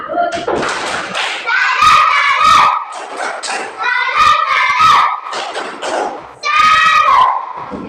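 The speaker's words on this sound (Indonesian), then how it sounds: "Tepuk salut." Elementary school children in a classroom perform a rhythmic clapping salute, chanting loudly in unison between bursts of patterned claps and thumps, voices and hands alternating in a lively, close sequence.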